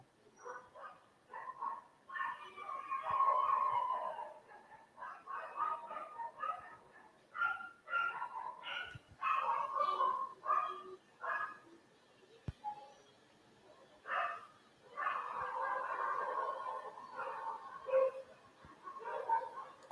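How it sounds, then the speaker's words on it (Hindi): Several dogs bark repeatedly in irregular bursts over about twenty seconds, moderately loud against a quiet background, with a few yips mixed in and no talking. "कुत्ते भौंक रहे हैं बेटा"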